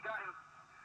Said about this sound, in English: I'll just put this police radio on here, which will just be different